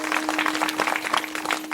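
Brisk applause from an audience at a kirtan, honoring the organizer's mic sound system, with close, uneven clapping throughout and a faint steady hum beneath it.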